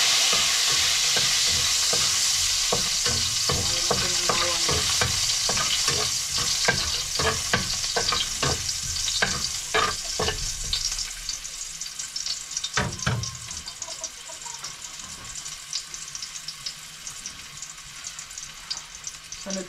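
Garlic sautéing in hot oil in a pan, a steady loud sizzle with frequent stirring scrapes and clacks, easing slightly toward the end, with no talk.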